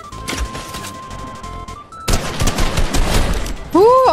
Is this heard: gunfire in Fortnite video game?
yes